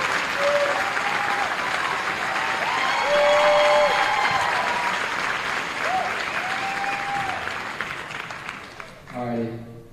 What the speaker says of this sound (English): I'd like to give a shout out and a big round of applause to our boys volleyball team.